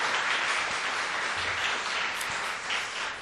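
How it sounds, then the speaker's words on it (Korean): A church congregation gives warm, sustained applause to welcome a visitor. Many hands clap densely and steadily for several seconds, filling the hall with no voices over it. "여러분 뜨거운 박수로 환영해 주시면 감사하겠습니다."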